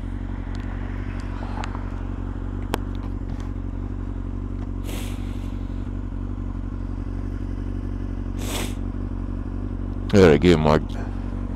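A motorcycle fresh from a tune-up and oil change idles with a steady low rumble throughout a test run, with a few clatters and a short burst of someone talking near the end.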